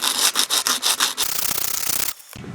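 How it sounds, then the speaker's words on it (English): Scrubbing rust off bicycle freewheel cogs sounds like a brisk abrasive rubbing, first in even back-and-forth strokes, then a quicker continuous scrape, close and without talk. "we'll go ahead and start cleaning up the cogs"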